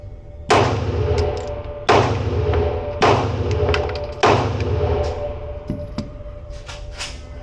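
A Cyelee Bull X Pro air gun fires a five-shot group, each shot a sharp close crack followed by a ringing decay, spaced at roughly even intervals of just over a second, with no talking.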